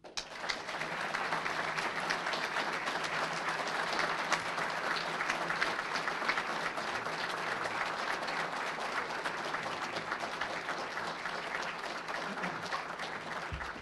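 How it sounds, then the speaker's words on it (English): A crowd at a university event welcoming a new athletic director applauds continuously, a steady, even wash of many hands clapping at moderate, slightly distant level with no talking. "for that wonderful round of applause"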